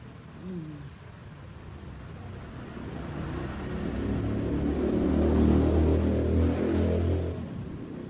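Motorcycles and tricycles pass along a road near a house, a low engine rumble swelling to a louder peak midway and fading again, with a brief voice early on.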